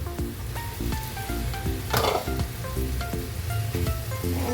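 Boiled Maggi noodles hit a hot pan with chili flakes and butter, giving a steady loud sizzle and frying crackle, with light stirring clinks throughout.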